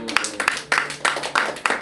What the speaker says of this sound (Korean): 하나님 앞에 감사의 박수